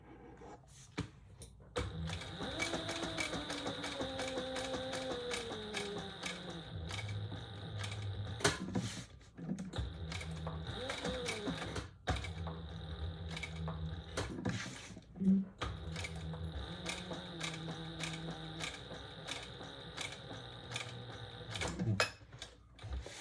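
A sewing machine stitches a row of stitches in a steady mechanical whir, with ticking and clattering gear noise, pausing briefly and then running again close by at moderate volume.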